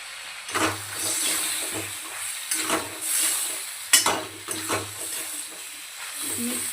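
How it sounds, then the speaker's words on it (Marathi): Tomatoes are added to a frying pan for a dhaba-style chicken curry, giving a steady hiss and sizzle broken by repeated crackling bursts and stirring scrapes, close up with no talk. "आता यामध्ये आपण आपले टोमॅटो ॲड करूया."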